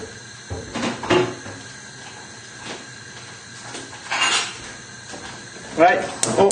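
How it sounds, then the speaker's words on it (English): A metal cooking pan clatters and clinks as it is lifted and set away in a home kitchen, a few sharp knocks and scrapes spaced out, close and fairly loud, with a voice speaking between them. "And I'll get rid of this pan as well."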